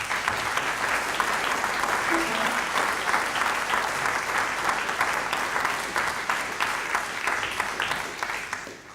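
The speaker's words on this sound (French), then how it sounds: "Je crois qu'on peut les applaudir très fort" An audience at a film screening applauds loudly and continuously for several seconds, a dense, even clatter of many hands.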